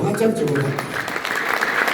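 A church congregation claps together in a steady, dense patter that runs under a voice speaking over it.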